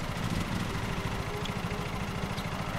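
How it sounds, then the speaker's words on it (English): A riding lawn mower engine idles in the Lawn Mowing Simulator video game. A steady, close, mid-pitched chugging drone holds evenly throughout with no other sounds. "so we're on our mower, we'll go ahead and start it up"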